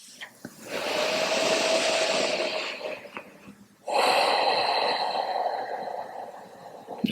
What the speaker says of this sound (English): Let's take one more full round of breath.